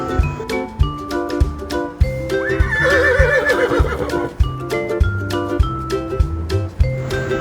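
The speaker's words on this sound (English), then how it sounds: "Horse," A horse lets out a loud, shaky whinny in the middle of a bouncy children's song, with a steady beat and bell-like tones continuing around it.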